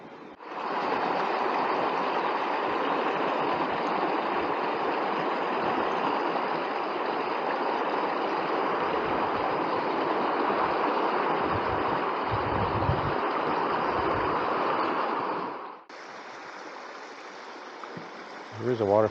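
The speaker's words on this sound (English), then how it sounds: "There's a waterfall in the background." A waterfall seeping over rock into Lake Superior at Noisy Bay, Ontario, gives a steady, close rushing wash that holds evenly for about sixteen seconds before dropping to a thinner hiss.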